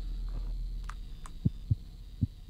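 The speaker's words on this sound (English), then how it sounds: "Is that a heartbeat?" A low hum drones at first, then a heartbeat thuds in with four evenly spaced low beats growing firmer, eerie game sound in The Cat Lady with no voices.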